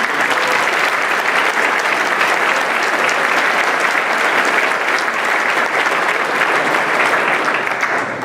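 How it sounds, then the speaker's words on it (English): An audience at a military graduation ceremony gives sustained applause, a dense, steady roar of many hands clapping throughout, loud and even with no talk over it. "Let's give them one more round of applause."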